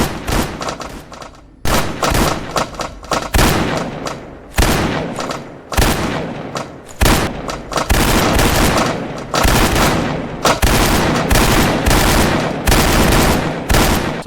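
Rapid bursts of gunfire from spam shooting in the Granny horror video game, loud and close, with repeated volleys separated by brief gaps and no talking.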